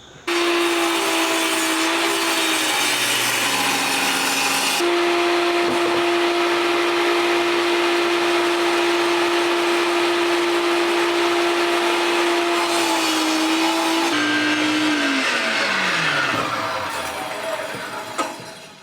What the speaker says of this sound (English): doing things on a small table saw bed, when you start doing big pieces of wood, it can be very difficult